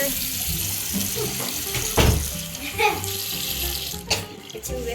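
Water runs from a tap in a steady splashing stream, close by, with a brief louder splash partway through.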